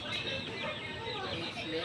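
Chickens cluck in short bursts nearby while a person talks over them outdoors.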